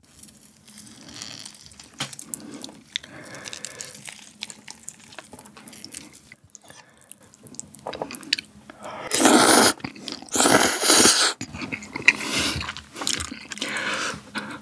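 Close-up chewing of habanero lime buldak fried noodles with shrimp rings, lime and coriander, soft wet mouth sounds building to loud crunchy bites near the end, with no talking.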